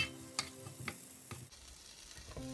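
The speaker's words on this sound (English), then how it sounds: "And then stir a little bit of lime juice." Shrimp are stirred with lime juice in a pan on a switched-off burner, giving faint scraping strokes over a soft residual sizzle, quiet and close.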